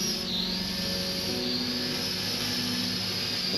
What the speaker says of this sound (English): This will send the drone up.